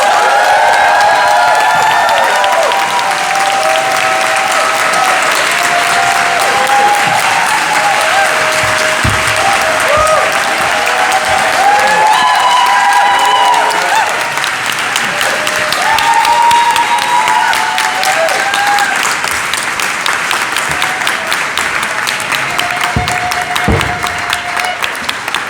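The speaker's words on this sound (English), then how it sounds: "please help me welcome Nan Goldin with a big applause" A large audience at a talk in Berlin applauds continuously to welcome a speaker, dense sustained clapping with some cheering that stays loud throughout.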